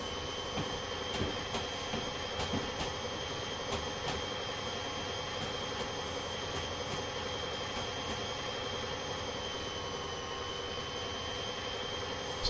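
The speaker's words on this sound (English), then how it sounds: "there's another train going by up there on its way to somewhere." A train rolls past in Train Simulator 2020 on New Jersey Transit rails near a hump yard, a steady rumbling wash of wheels with regular rhythmic clacks over rail joints, sustained and fairly distant.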